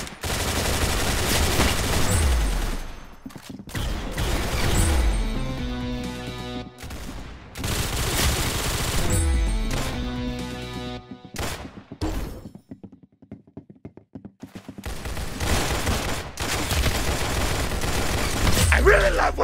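Rapid gunfire in the Roblox game Arsenal, loud bursts of automatic shots with short pauses between volleys and an occasional crack or thud.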